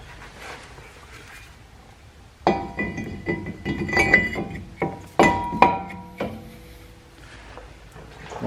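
Metal brake rotor clinking and clunking as it is slid onto the front hub of a Dodge Grand Caravan, several sharp close taps and knocks clustered over a few seconds after a quiet start.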